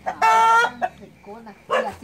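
A rooster gives a loud, harsh crowing call up close, followed by shorter clucks and a raspy squawk.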